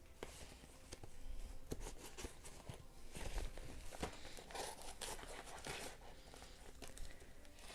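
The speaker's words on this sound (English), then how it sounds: "This one calls for scissors." Scissors cutting open a mail package, with dense crinkling, tearing and crunching of packaging in quick irregular bursts throughout, close and fairly loud, and no talking.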